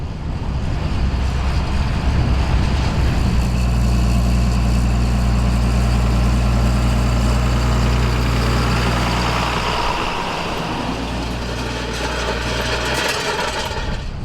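A 1990 John Deere 4455 tractor idles at low revs under light load while pulling Opico He-Va 12.3m rolls over spring beans, a loud, steady low engine drone with a constant hum that holds throughout.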